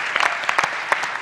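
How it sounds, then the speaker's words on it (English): An audience at a startup festival hackathon finalist showcase applauds steadily, a dense continuous wash of many hands clapping close and loud, with no voices over it. "Let's give them a big round of applause"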